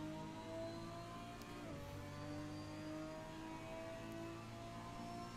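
A Toyota Supra GT4 engine in Assetto Corsa climbs steadily under throttle, its rising harmonic whine continuous and fairly quiet with no break, one brief shift-like dip midway.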